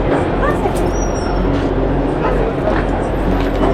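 A dog yips and whimpers close by on a truck trip, with people talking over it and steady road or engine noise underneath.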